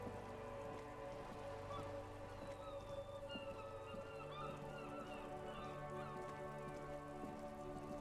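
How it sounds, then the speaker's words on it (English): Steady rain patters in the video game Disco Elysium, a faint continuous wash under sustained music tones with no pauses. "We'll just do a long walk back in the rain."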